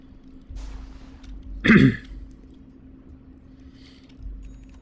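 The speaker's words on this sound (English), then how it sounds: "Excuse myself for the coughing and such" A single short cough from a commentator casting an esports match, close to the microphone over a steady low hum, with quiet stretches before and after.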